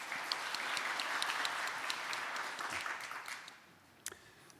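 An audience at a symposium on corporate fair-trade compliance programs applauds to welcome a presenter, giving steady broadband clapping that fades toward the end, with a few brief sharp claps at the close.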